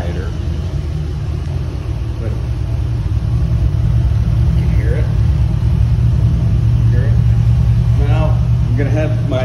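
Straight-pipe exhaust with the muffler deleted on a 1986 Corvette convertible pace car idles with a steady, loud low rumble, heard up close throughout, while a person talks over it.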